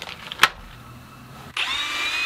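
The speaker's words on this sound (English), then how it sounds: "Using a self-centering drill bit, I'm going to drill pilot holes before I install the included screws to secure the MDF." A power drill with a self-centering bit runs into MDF to bore pilot holes during CNC machine assembly; a short tap and quiet lull give way to a loud, steady motor whine that starts abruptly and continues to the end.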